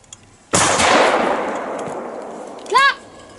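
A single loud, sharp gunshot outdoors on the Danish island of Læsø, a sudden crack followed by a long, fading rolling echo, then a short high-pitched whistle-like sound; no talking during the shot.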